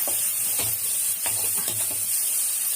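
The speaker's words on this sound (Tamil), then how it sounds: "இப்போ நல்லா வதக்கிக்கலாம்." Chilli powder masala sautéing in a pan for fish curry, a continuous hissing sizzle broken by repeated soft scrapes and stirring strokes, close and fairly loud.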